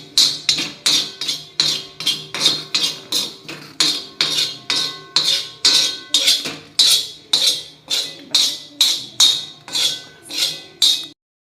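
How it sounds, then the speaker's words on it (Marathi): Coriander powder is dry-roasted in a pan over a low gas flame while a metal spoon clinks and scrapes against the pan in a steady rhythm of about twenty close, even strokes, with no talking. "आता मी धना पावडर भाजून घेते"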